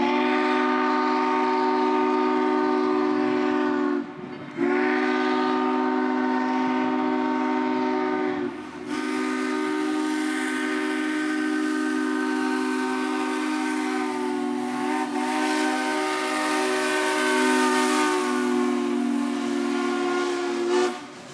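A scenic short-line excursion train near Chattanooga, Tennessee, sounds a long steam-style whistle in sustained blasts with brief breaks, loud and close in the morning air, with no talking.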